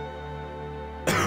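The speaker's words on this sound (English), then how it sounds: "Can anybody do anything apart from cough?" A single short cough from a Pink Panther cartoon game character, sharp and loud, cutting in over a steady background music track.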